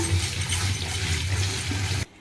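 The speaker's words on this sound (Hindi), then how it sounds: "एबे जामुकोली की आम भलसे धोई नबा।" Jamun fruits being washed in water: steady running and splashing water with a low hum underneath, close and fairly loud, ending abruptly.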